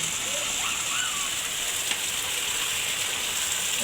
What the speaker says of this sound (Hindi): तेज़ बारिश हो रही है, इतनी तेज़ हो रही है कि पानी फ़ौरन जो है जाने लग गया।